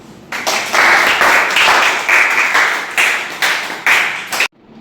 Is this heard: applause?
yes